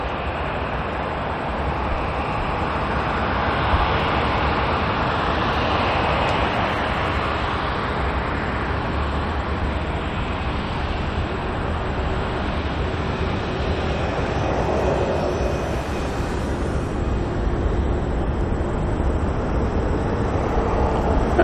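An airliner departs Auckland Airport with a steady, loud, broadband jet roar that holds continuously and stays even from start to finish, with no voices.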